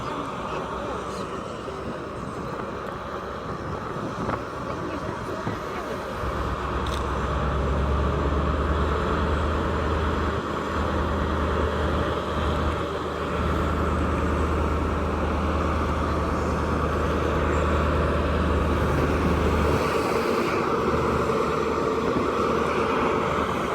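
HST class 43 power car 43285, running with an engine fault, pulls away from Sheffield station with a loud, steady diesel roar that swells and holds close by, a deep low rumble under broad engine noise.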